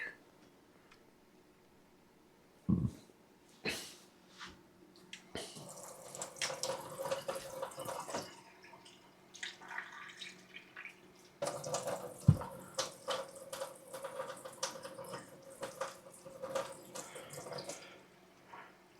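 Running tap water splashes and trickles into a jar in bursts, with clinks and bumps of handling between pours, fairly close and moderately loud.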